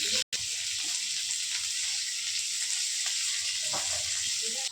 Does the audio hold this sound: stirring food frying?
yes